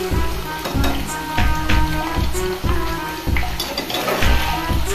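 Potato french fries bubble and crackle in hot oil, a loud, dense sizzle with rhythmic surging bursts as they are stirred and mixed, close and continuous, with no talking.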